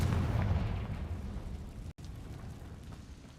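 A Confringo spell blast in Hogwarts Legacy, one loud, deep, booming explosion at the start that rumbles and then decays into a long fading roar, heard alone without speech.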